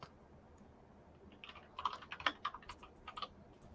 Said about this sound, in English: I hate typing like in front of people.